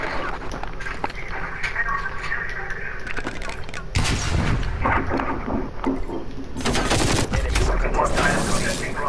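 Gunfire in Call of Duty: Black Ops Cold War crackles in repeated bursts, with loud heavier volleys near the middle and end, while players talk over the action.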